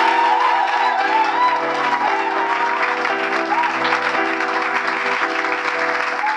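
A congregation at a church conference applauds and cheers loudly and steadily, with whoops and shouts in the crowd, while sustained keyboard chords play underneath.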